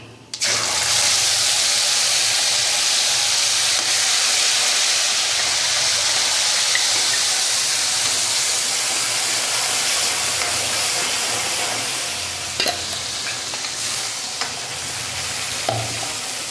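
Onion-tomato gravy poured into a hot pan with cumin and bay leaf over a lowered gas flame, giving a loud, steady sizzle that fills the whole stretch, with a couple of brief clatters near the end.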